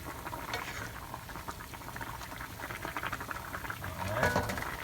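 A pot of pasta for shrimp scampi boiling steadily on the stove, with a constant bubbling wash and small pops, getting a little louder near the end, no talking.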